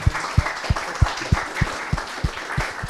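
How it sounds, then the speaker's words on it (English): Conference audience applause at a summit in Argentina, rhythmic unison clapping of about ten even beats, fairly close and loud, with no one speaking over it. "let's give him a round of applause"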